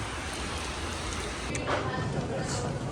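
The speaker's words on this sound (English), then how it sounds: "Right now the rain's kind of chill, but it's gonna go crazy soon." Steady rain falls ahead of a hurricane with forecast 65 mph winds, a constant close hiss of drops that swells slightly toward the end.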